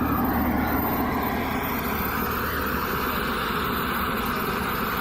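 A plane takes off, its engine roar a steady, loud broadband rush heard from inside the cabin, holding constant throughout with no breaks.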